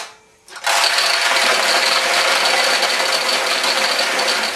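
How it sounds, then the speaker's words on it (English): Metal balls draining out of a Nishijin pachinko machine after a lever is pulled, a sudden loud, dense, continuous rattling rush that starts after a brief quiet moment and holds steady to the end. "We're going to actually pull down on that lever, and when we do, all the balls that are up here will drain down here."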